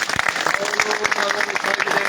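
Applause from an audience at a Turkish gathering about new İspire construction machinery, a dense patter of clapping that stays steady for about two seconds with some voices mixed in.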